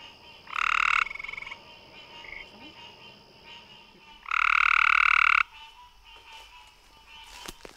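A male gray tree frog gives two loud, buzzy trilling calls a few seconds apart, close by, with quieter pond ambience and faint distant calls between them.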